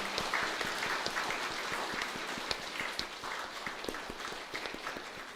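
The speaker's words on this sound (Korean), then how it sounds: "뜨거운 박수로 감사 인사를 전하겠습니다" Warm applause from a church congregation at a Sunday service, a steady bed of many hands clapping with sharper individual claps standing out near and far throughout.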